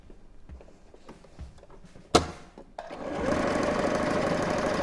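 A sewing machine stitches the bottom panel of a dog bed. Quiet handling and small clicks come first, then a sharp thump, then a steady, fairly loud motor whir runs on through the end.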